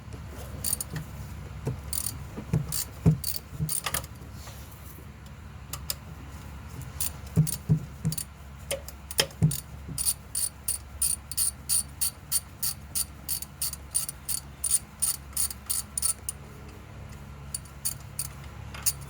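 A ratchet with a 13mm shallow socket loosens an alternator bolt on a 2012 Passat 2.5 five-cylinder: scattered clicks at first, then a long run of rapid, evenly spaced close ratcheting clicks.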